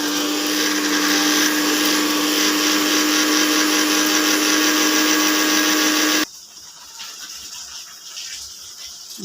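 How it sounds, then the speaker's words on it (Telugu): Kitchen mixer grinder running on cumin and fenugreek powder, a loud, harsh, steady whirring roar that cuts off abruptly near the end, leaving faint room noise. "ఇప్పుడైతే జీలకర్ర మెంతుల పొడి అయితే పట్టేస్తున్నాము"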